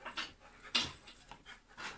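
Rhythmic panting from a dog on a husky farm, close to the microphone, with quick, breathy puffs repeating steadily and no talking.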